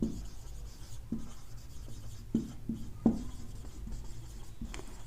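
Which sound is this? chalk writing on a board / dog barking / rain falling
chalk writing on a board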